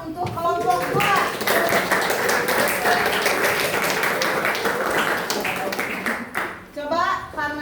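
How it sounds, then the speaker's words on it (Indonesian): Group 2 receives a burst of clapping from a classroom of students, sharp dense handclaps lasting several seconds, with voices speaking briefly before and after the applause fades. "Tepuk tangan untuk kelompok 2."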